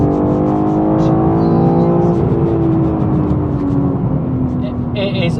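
A BMW M3 xDrive accelerates hard, engine note climbing and shifting in pitch, loud and close with road roar underneath.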